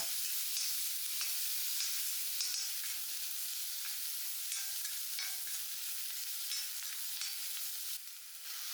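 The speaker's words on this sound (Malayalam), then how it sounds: "ഇനി ഉള്ളിയും പച്ചമുളകും വഴറ്റാം" Onion and green chilli sautéing in coconut oil in a clay pot, a constant bright hissing sizzle up close with soft scraping stirs, slightly quieter in the final moment.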